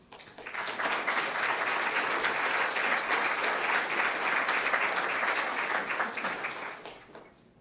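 An audience breaks into steady applause at a symposium to welcome a speaker, with clapping swelling quickly, holding for several seconds and then tapering off.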